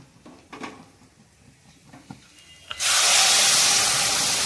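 Hot water hits a pan of sizzling fried spices, bursting into a loud, close hiss of steam and spatter that holds steady after a few quiet clinks and soft kitchen sounds.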